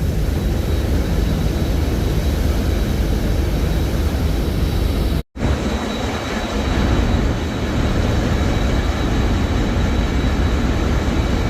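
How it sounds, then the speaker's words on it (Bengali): The Surovi-7 passenger launch cruises along a river at about eleven knots, a loud, steady engine rumble and rushing water with a brief dropout midway, no voices. "প্রায় এগারো নটিক্যাল মাইল গতিতে কিন্তু চলতেছে সুরভি সাত লঞ্চটি"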